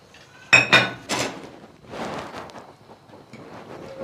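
A spoon stirs bessara, a fava bean purée seasoned with salt and cumin, in a metal pot: a few sharp clinks at the start, then softer scraping strokes against the pot, close and alone.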